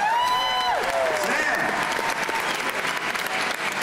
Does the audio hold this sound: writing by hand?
no